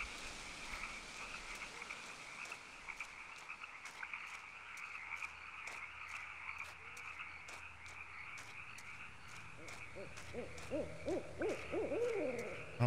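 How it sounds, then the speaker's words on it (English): An owl hoots repeatedly in the night ambience of the game Kentucky Route Zero, layered with steady frog croaking and chirping insects, no voices over it. "we definitely hear an owl"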